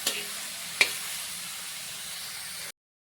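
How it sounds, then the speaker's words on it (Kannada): Ivy gourd (tindora) fries in a pan with a steady, close, even sizzle. Two brief utensil clicks come near the start, and the sound stops abruptly before the end. "ಇವಾಗ ಚೆನ್ನಾಗಿ ನಾನು ಫ್ರೈ ಮಾಡಿ ತೊಗೋತೀನಿ"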